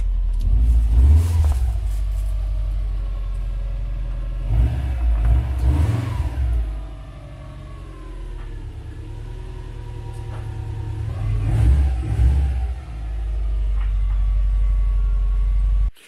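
A Subaru WRX engine rumbles and revs in repeated low surges, pulling in and accelerating close by with steady idle between bursts, no voices.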